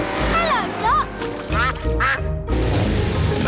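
Cartoon ducks quack in a series of bright, nasal calls from an animated children's show, heard under a music bed with some talk between the quacks.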